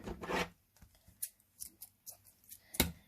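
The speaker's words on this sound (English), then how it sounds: "So let's go ahead and cut our yarn," Scissors snip through chunky yarn while a crocheted Christmas stocking is being finished. One quiet rasping cut is followed by several small, close snips and rustles.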